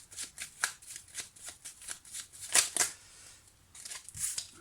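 Tarot cards being shuffled by hand in a quiet room, a rapid series of soft riffling flutters and slaps repeating close by, fairly faint overall with no talk.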